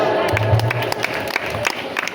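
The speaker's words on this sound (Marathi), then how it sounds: "टाळ्या वाजवा." A game-show crowd at a Marathi home-minister comedy games event bursts into clapping and cheering, a steady wash of hands with scattered louder claps, fairly close and continuous throughout.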